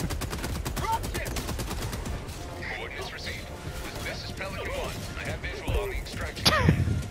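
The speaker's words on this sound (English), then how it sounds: "Listen to all the mortars." Heavy explosive mortar fire in Helldivers 2 thumps and booms repeatedly amid dense gunfire, dense and loud throughout with a louder burst near the end, while voices talk over the battle.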